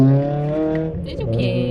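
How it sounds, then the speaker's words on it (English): A loud, noisy car engine revs nearby with a strong, rough droning hum that rises and shifts in pitch, while a voice speaks briefly over it. "He's just got a noisy car"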